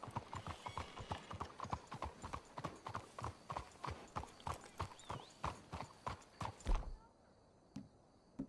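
Horse hooves clip-clop in a fast, steady rhythm in the Red Dead Redemption 2 video game, close and clear for about seven seconds before slowing to a stop, with a short whinny and quieter ambience after.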